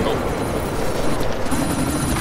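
In Deus Ex: Mankind Divided, a helicopter drones steadily with a thick, broad rotor and engine roar that fills the whole stretch, loud and close, with no break.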